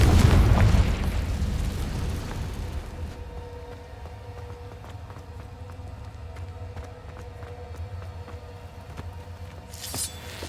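A deep, booming blast from the Confringo spell in the Hogwarts Legacy video game hits loud at the start, then fades into a long rumbling tail with faint crackles and a small pop near the end.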